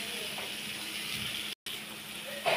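Water poured into a pot of amra (hog plum) chutney gives a steady, close, soft rushing hiss that continues evenly, broken by one brief gap of silence near the middle.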